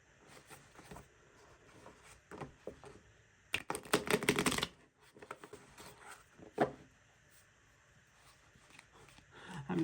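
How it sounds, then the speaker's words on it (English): Tarot cards shuffled by hand in a quiet indoor setting, a dense riffling burst of papery flicks lasting about a second, surrounded by softer scattered card taps and handling noises, fairly close and moderate in level. "not sure why that was such a crappy shuffle"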